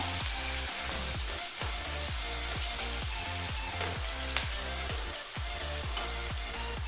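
Garlic cloves and black peppercorns fry in a pan for a village-style mushroom curry, giving a steady, loud sizzle with repeated scraping stirs and no talking.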